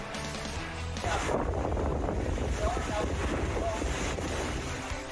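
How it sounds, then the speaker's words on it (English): Hurricane Idalia lashes Florida's Big Bend area with heavy rain and wind, a loud continuous roar of rushing air and downpour buffeting the microphone, swelling after the first second and staying steady. "this is the Big Bend area of Florida getting battered by a heavy rainfall and winds"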